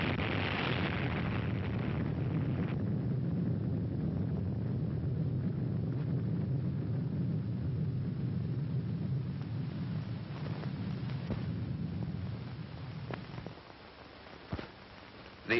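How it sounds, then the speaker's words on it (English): A nuclear bomb detonates during the Operation Crossroads test near ships at sea, a long, heavy, roaring rumble that holds steady for many seconds, then fades, with a few sharp cracks near the end. "studying the speed relationships of the various phases of this explosion."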